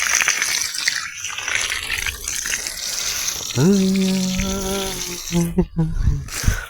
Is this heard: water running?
yes